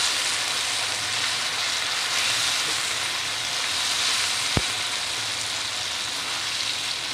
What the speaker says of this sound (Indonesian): sepotong terasi akan saya tumis di dalam sini